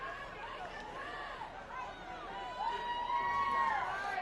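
A stadium crowd at a Druid Hills vs Rockdale County high school football game at Reid Stadium keeps up a steady hum of chatter and shouting, with a few fans' voices rising and swelling louder near the end.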